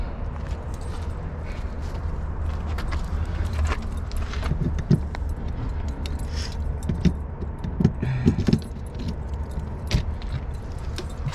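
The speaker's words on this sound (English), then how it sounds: "Don't grab the keys." Keys jangle near the front of a travel trailer, with scattered metallic clinks and rattles over a steady low rumble of traffic or an engine.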